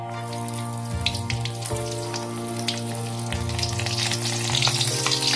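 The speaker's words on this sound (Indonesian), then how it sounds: "Aduh, ternyata masih ada sedikit air. Udah bunyi bertok-tok." Fish frying in hot oil, sizzling steadily up close with scattered sharp pops from leftover water, over a constant background hum.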